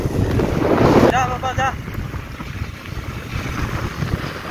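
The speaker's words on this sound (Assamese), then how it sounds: "ভালকে টপ স্পীডটোত উঠিলেই বাইকৰ, বহুত বেছি বতাহ মাৰি আছে।" Strong wind roars and buffets the microphone continuously while riding a motorbike at top speed, with a brief harmonic tone near the start and low engine rumble beneath.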